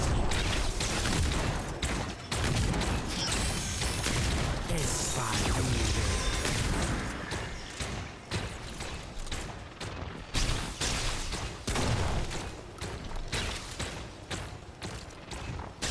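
Twin shotguns fired in the video game Remnant II, loud booming blasts and crashes in bursts with mechanical clatter, a voice faintly talking underneath.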